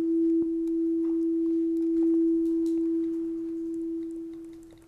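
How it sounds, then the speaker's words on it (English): A steady, pure electronic tone holds at one pitch for nearly five seconds, loud and unwavering, fading slightly at the end with a faint click near the start. "this very simple sound, which is a sine wave"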